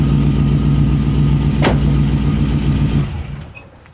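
A loud LS3 V8 in a 1970 Chevrolet Chevelle SS Convertible rumbles at a deep, steady idle up close, then is switched off and the sound quickly dies away.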